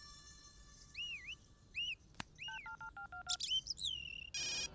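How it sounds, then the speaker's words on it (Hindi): A phone rings in a Hindi-dubbed action movie scene with an electronic ringtone: whistling, sliding chirps, then a run of dial-style beeps and a final bright trill, close and clear with no talk. "देख, मेरे मना करने के बाद भी वो फोन कर रही है।"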